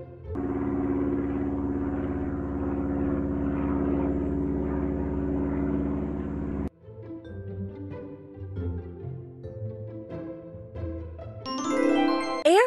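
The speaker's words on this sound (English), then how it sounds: "Airplane is a vehicle designed for air travel that has wings and one or more engines." A propeller airplane drones steadily and loudly with a tonal engine hum for about seven seconds, then cuts abruptly to chiming musical notes.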